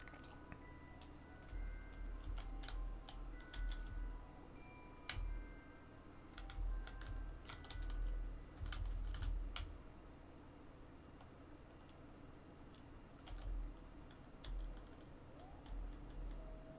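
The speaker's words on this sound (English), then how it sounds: "I kept clicking things" Mouse and keyboard clicks come from playing Kerbal Space Program on a PC, a faint scatter of irregular taps and clicks in bursts over a low background hum.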